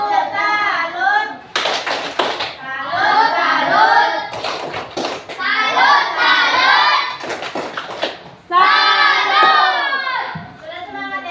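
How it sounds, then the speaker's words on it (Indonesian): A group of children perform the tepuk salut clapping chant, chanting loudly in unison with bursts of sharp rhythmic claps between the sung phrases, close and energetic. "Coba kita kasih tepuk."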